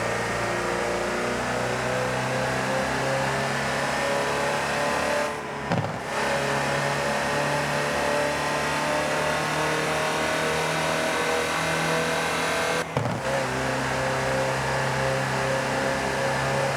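An in-game Land Rover Type 3 in Forza Horizon 4 drones with a steady engine hum at constant revs, the sound cutting out briefly twice before resuming.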